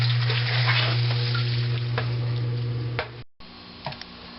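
A sump pump in a cleaned-out crock, part of a Liberty SJ10 radon install, hums steadily right after being plugged in, with faint ticks and rattles over the drone before it cuts out briefly and a few clicks follow.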